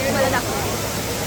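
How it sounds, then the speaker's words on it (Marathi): Amboli waterfall in monsoon, a steady broadband roar of falling water filling the scene, with a crowd's babble and a nearby voice speaking over it. "हा वॉटरफॉल आहे गाईस, हा आंबोली धबधबा आहे"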